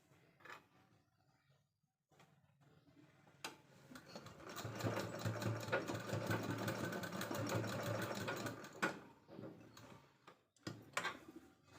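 A sewing machine stitches a pocket made from leftover blouse border fabric, running in a rapid mechanical whir for several seconds between short bursts and clicks, fairly close and without talk.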